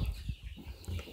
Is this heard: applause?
no